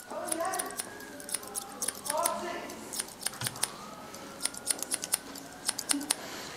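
Barber scissors snip through short hair in quick, crisp clicks, irregular and close, with murmured talk faint underneath at first.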